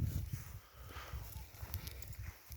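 Soft, low sounds from draft horses grazing on grass, with faint hoof thuds and snorting nearby, quiet and uneven, against an outdoor background.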